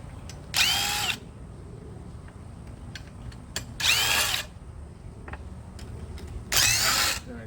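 A power drill removes bolts from a Toro TimeCutter zero-turn mower in three short, whining bursts of about half a second each, heard up close over a low background hum.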